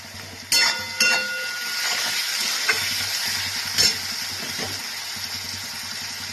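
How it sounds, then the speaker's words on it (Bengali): Chopped tomatoes hit hot oil in a pan for a Bengali katla fish curry, giving a steady close sizzle and frying hiss with a few sharp clinks and stirring knocks near the start. "এইবার এটার মধ্যে কেটে রাখা টমেটো কুচানোগুলোকে দিয়ে দিলাম।"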